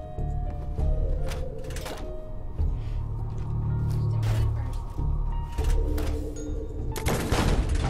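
Gunfire in Fallout 4: Far Harbor, several sharp reports and bursts layered over a dense, loud game soundscape with rumbling low background, the biggest crack landing near the end.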